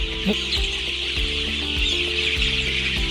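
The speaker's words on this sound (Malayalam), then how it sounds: "ഇപ്പോൾ നമ്മൾ കാണുന്നത് ഇത് 35 ദിവസം പ്രായമുള്ള കോഴിക്കുട്ടികൾ, നാടൻ കോഴിക്കുട്ടികളാണ്." Native country chickens, 35-day-old chicks on a farm, cluck in short repeated bursts, close and moderately loud, with no talk.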